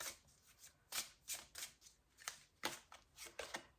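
Prism Oracle cards are shuffled by hand in a quiet room, giving a series of soft, papery riffles in an uneven rhythm, close and faint, with no voices.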